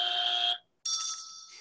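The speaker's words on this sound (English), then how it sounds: "I have a buzzer and a bell on my podcast." A podcast's buzzer and bell sound effects: a harsh electronic buzz lasting about half a second, a brief silence, then a bright ringing bell tone that fades slowly, both close and clean.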